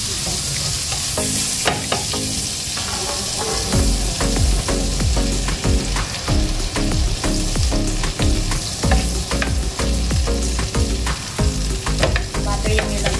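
Ham and egg fry in butter in a pan for a toasted breakfast, giving off a loud, continuous sizzle broken by repeated sharp scraping and stirring clicks from a utensil.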